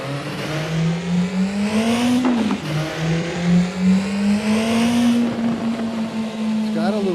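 A car engine drones and rises through revs, its exhaust giving a throaty tone with brief dips and crackles as the throttle backs off, loud and close.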